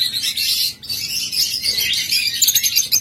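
Lovebirds give rapid, high, shrill chirps and twitters close by, a busy continuous chatter with brief pauses, and no people talking.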